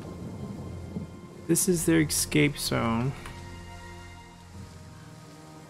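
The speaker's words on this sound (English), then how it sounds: "Oh man, it's raining." Steady rain hisses with a low thunder rumble behind it in a strategy video game battle, while someone talks over it.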